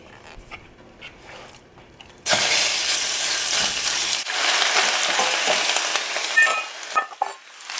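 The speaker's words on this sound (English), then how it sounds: "Okay, you hear that sizzle? Your pan's nice and hot." Meat hits a hot stainless steel pan coated with about a tablespoon of oil and breaks into a loud, steady sizzle that runs for several seconds after a quieter stretch of kitchen handling, then tapers off.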